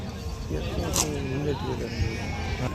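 Sheep bleating amid the crowd at the Gudur sheep market near Nellore, a short wavering bleat rising over steady background chatter and market noise, with people talking nearby.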